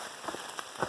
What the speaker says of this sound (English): Here comes some rain.